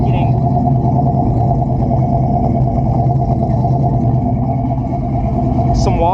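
A 1969 Buick Special Deluxe engine runs close by at a steady, throbbing idle, blowing built-up moisture out through the exhaust. The rumble is loud and unbroken, with a faint voice and a brief squeak near the end.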